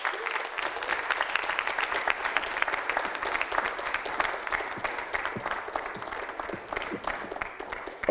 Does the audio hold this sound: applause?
yes